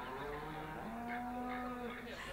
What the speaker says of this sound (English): the guy's like imported some audio of, I guess, like a cattle sell-off point or something like that